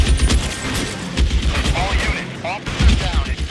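Rapid gunfire bursts from the L.A. Noire video game, loud and repeated in clusters throughout, mixed with someone talking and reacting over it.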